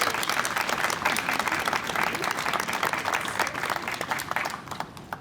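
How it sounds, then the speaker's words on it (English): A large audience applauds at a Salt Lake City School District transit pass event, greeting the chair of the Utah Transit Authority board with dense, steady clapping that fills the whole stretch and thins slightly near the end. "Let's give him a big round of applause."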